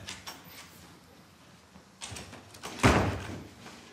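A door being shut during army basic-training drill, ending in one solid, close thud after a few softer rustling knocks.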